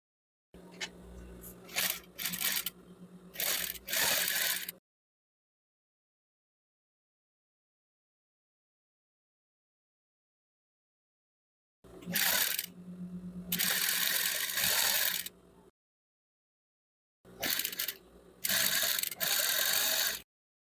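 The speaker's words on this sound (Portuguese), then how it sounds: "Aqui eu vou dar um pezinho de máquina de costura." A sewing machine stitches strips of leftover fabric for a rag rug, three separate bursts of rapid mechanical clatter with short stops inside them, close and fairly quiet, with long silences between.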